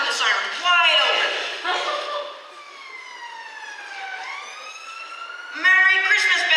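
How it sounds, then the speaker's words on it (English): A siren sound effect in a community stage play of It's A Wonderful Life, loud wailing tones rising and falling across the whole stretch and cutting out briefly before surging back in. "do that and turn the siren wide open."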